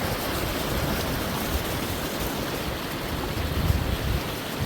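Continuous broadband rush of stream water pouring over rocks along the Superior Hiking Trail, steady and fairly loud with no pauses or voices.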